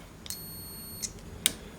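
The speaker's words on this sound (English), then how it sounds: "We turn it on, and then if the fuse is good, you gotta hear the beep." A multimeter on continuity mode beeps while a good fuse is tested during a Yamaha mixer repair, giving a few short, thin electronic tones with small clicks over a quiet background.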